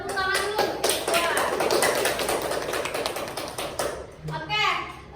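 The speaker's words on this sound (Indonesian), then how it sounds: "tepuk tangan dulu" Children clap their hands in a classroom, a dense burst of applause that fades after a few seconds, with voices of kids and a teacher talking over and after it.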